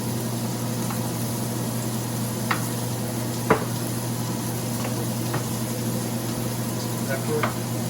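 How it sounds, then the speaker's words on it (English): Pork shoulder cooks in a pan under a steady sizzle and low hum, while a utensil scrapes and clinks against the pan in several sharp, separate strokes. "I'll do the seasoning while he's doing the stirring"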